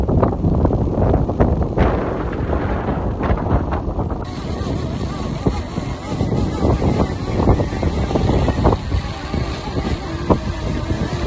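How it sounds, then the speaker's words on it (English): Strong, gusty wind batters the microphone during a DJI Mini 2 drone flight outdoors, giving a loud, continuous rumbling roar with irregular buffeting surges throughout, and no voices. "As you can see and hear, the wind is pretty damn strong."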